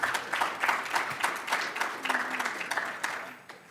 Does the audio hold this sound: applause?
yes